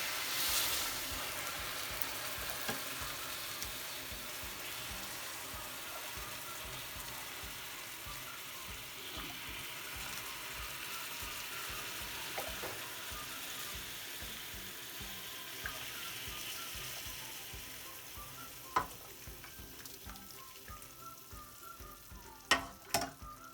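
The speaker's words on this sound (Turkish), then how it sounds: "Aynı anda hemen şerbetimizi ocaktan alıyoruz. Dökmeye başlıyoruz." Hot syrup poured over freshly baked chocolate şekerpare, giving a steady close sizzle and hiss with watery pouring, ending in a few sharp clinks near the end.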